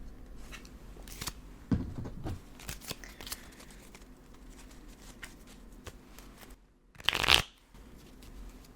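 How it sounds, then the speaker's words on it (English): Sabacc cards being shuffled in soft riffles and quiet taps, close and intimate, with a louder burst of rapid card riffling near the end. "Let me go ahead and shuffle everything."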